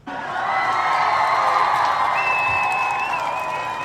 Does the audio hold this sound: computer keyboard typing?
no